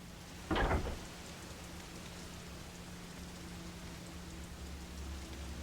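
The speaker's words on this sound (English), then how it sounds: "Raining outside too." Rain falling outside in the horror game Fatal Frame: Maiden of Blackwater, a soft, steady hiss with a quiet low hum under it and one brief knock near the start.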